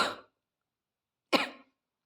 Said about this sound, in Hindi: खांसी आई मुझे एकदम से